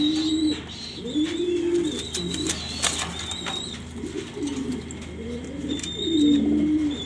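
A silver pigeon in a home loft cooing nearby in repeated low, rolling phrases, with faint chirps from other birds and light background rustle.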